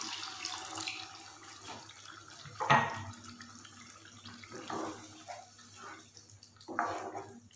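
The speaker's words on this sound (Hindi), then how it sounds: "अब हम डालते हैं इसमें थोड़ा सा पानी" Water poured into a pot of potato curry with yogurt, short splashing bursts and trickles at intervals, fairly close and otherwise quiet.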